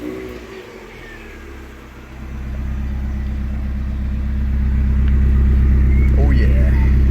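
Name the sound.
car engine starting and idling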